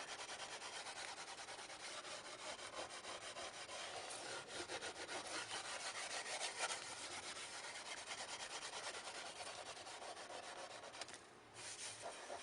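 Wire wool rubbed over the varnished surface of a painting to dull it, a faint continuous scratchy scrubbing at close range with steady back-and-forth strokes.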